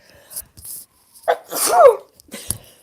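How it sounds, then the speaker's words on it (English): A single sharp sneeze bursts out after a few quick breaths and a short build-up, close and loud, followed by a faint sniff. "I'm going to sneeze"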